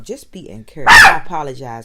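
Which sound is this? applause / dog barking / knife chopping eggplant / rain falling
dog barking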